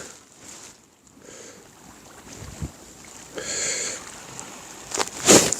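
Wind gusts buffet the microphone at the Dumunpo fishing harbour in Yeosu, a steady rushing roar that swells and fades, with a couple of brief sharp knocks, close and fairly loud.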